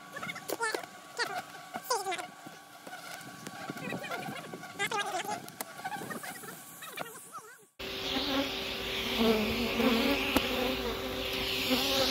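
A swarm of aggressive Africanized honey bees buzzes loudly and continuously during the removal of two colonies from a house, a dense insect drone that rises and thickens sharply partway through.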